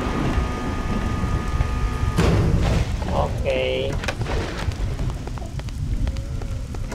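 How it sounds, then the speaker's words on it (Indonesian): A storm in the video game BloodRayne gives a continuous windy roar with rumbling, thunder-like booms and a few sharp game effects, while someone talks briefly over it. "Dan ini ada suara-suara angin gitu ya. Karena kan badai di gamenya gitu ya."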